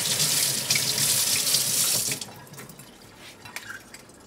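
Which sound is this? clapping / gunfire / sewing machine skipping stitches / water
water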